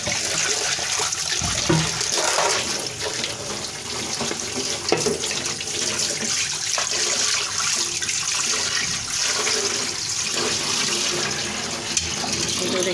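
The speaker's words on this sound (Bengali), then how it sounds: "এই তো আমি এটা এখন ধুয়ে দেখাচ্ছি।" A cleaned, formerly burnt pan is rinsed under a running tap, a steady rushing stream of water that continues close and loud throughout, with a few brief knocks of the pan.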